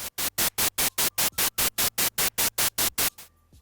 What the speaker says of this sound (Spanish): utilizando ruido blanco, que se va a estar entrecortando cada 100 milisegundos